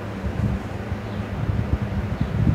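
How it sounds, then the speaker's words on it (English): Gusty wind blows outdoors on a hot day beside a fatwood fire-starting setup, a steady low rumble of buffeting against the microphone that swells and surges throughout. "That wind is just driving me crazy today."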